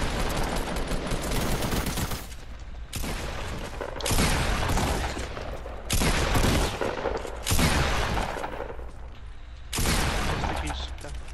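Gunfire in the video game Fortnite, with rapid bursts of automatic shots and heavy single blasts repeating in loud clusters separated by brief gaps, dense and close throughout.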